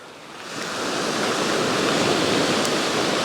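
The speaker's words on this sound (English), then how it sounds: "that was the sea" Sea waves wash up on an English shore, a broad rushing surge that swells louder after the first half-second and stays close and steady.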